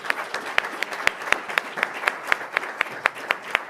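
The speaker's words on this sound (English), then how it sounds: "please give me a round of applause for our rock star panel up here" Applause for a panel at a live event, heard as a small, fairly close audience clapping in a thin, steady stream with sharp individual claps standing out in a regular rhythm.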